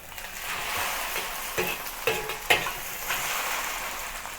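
Beef hor fun noodles are stir-fried in a well-seasoned cast iron wok over medium heat, a steady quiet sizzle broken by several sharp scraping and tossing clatters of the spatula against the metal.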